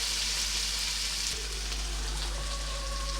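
Onion sizzling in hot oil in a pan while cooking dinner, a steady close broadband frying hiss throughout with faint crackles and a soft clatter near the middle, no talking.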